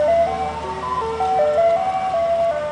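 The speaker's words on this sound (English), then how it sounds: "Bye, ice cream truck." An ice cream truck's tinkling jingle melody plays steadily as the truck drives off, loud and clear over a low engine rumble, with no talking.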